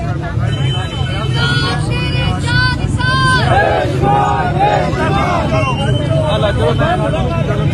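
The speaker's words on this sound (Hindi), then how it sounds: "नारेबाजी की जा रही है" Large protest crowd outside Adiala Jail chanting slogans together, a loud mass of voices rising and falling over constant street noise and traffic.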